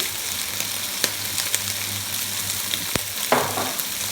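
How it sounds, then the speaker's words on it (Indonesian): Chinese cooking wine hits braised pork belly in a hot wok, giving a steady close sizzle with a few sharp spatters and scraping stirs, and no voices. "Selanjutnya aku akan tambahkan sedikit arak masak ya teman-teman."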